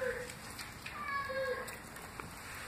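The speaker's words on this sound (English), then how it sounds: "Are you meowing?" Domestic cat meowing indoors, a few short, thin mewing calls spaced across a couple of seconds against quiet room background.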